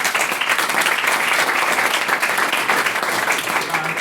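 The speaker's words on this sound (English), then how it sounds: "I'd like to give all the speakers a round of applause this evening." Audience applause for the speakers at a student union debate on disaffiliating from the NUS: dense, steady clapping from a full room, sustained at an even loudness for about four seconds with no voices on top.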